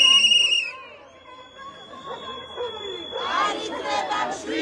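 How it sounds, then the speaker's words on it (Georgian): Protesters on a road chant and shout against police requests to clear the way. Shrill whistle blasts and a long steady tone give way to loud, dense crowd hubbub and shouting. "სხვადასხვა შეძახილებით პროტესტს გამოთხოვენ"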